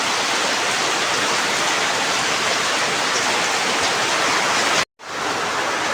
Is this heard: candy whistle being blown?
no